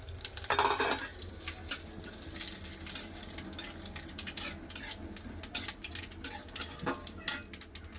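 Whole garam masala of cloves, cinnamon and cardamom, plus cumin, a bay leaf and a dried chilli, tempered in hot oil for an egg and potato curry: a steady sizzle broken by repeated clinks and scrapes of a stirring spoon against the pan.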